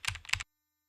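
A short burst of typing on a computer keyboard, entering text into a search bar: two quick clusters of close, crisp keystrokes lasting under half a second, then silence.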